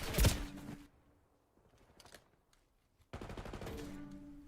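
Rapid gunfire bursts from a Call of Duty match at an Air Force esports championship, a loud opening volley, scattered quieter shots, then a sustained dense burst of automatic fire at the end.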